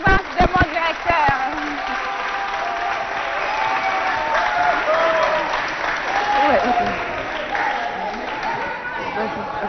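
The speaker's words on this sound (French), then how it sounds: "Je vous demande d'applaudir d'abord pour la présence de mon directeur." Audience applause at a televised Chad youth competition between SOS Village Tchad and Centre Dakouna Espoir, steady clapping lasting the full stretch with a few sharp claps at the start, while voices and cheering mix in underneath.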